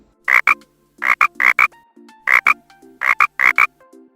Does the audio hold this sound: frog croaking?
yes